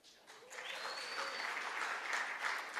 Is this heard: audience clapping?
yes